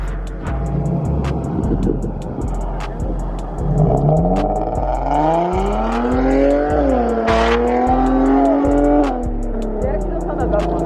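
A car fitted with test-pipe exhaust revs hard in repeated rising bursts, then roars past nearby, loud and raspy, with voices faintly underneath.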